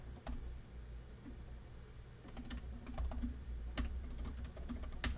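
Keys on a computer keyboard are tapped in short irregular bursts with brief pauses. The sharp clicks sound quiet and close, with no talking.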